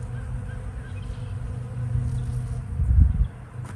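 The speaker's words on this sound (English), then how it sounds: "but do you hear the bees?" A low bee hum drones steadily over a rumbling lawnmower engine in the background, swelling briefly near the end.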